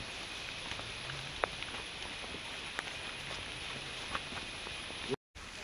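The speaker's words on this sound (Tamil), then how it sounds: "மக்களே, மழை இங்கே நல்லா வேகமாகவே வந்துருச்சுங்க" Rain falling in the Himalayas, a steady hiss with scattered drops and small ticks close by, even and unbroken apart from a momentary cutout near the end.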